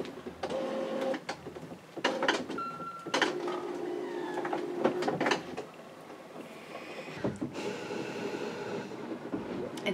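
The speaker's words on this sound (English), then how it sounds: "Let's see if I know how to work a printer still." An inkjet-style home printer runs through a maintenance cycle, giving off mechanical whirring, clicks and sliding carriage movements in a steady ten-second sequence, fairly close and loud, with brief pauses and a short vocal interjection.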